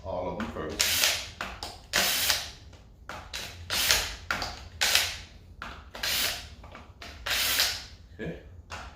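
A ratchet loosening cylinder head bolts on a Jaguar X-type during timing chain and head removal. Repeated bursts of clicking come in an uneven rhythm, close up, with brief mechanical clunks between them.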